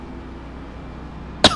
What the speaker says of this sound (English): This cough is killing me.